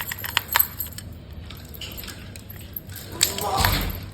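Metal keys jingle and clink in several short bursts, close by, with a light rattle near the end and soft voices around them.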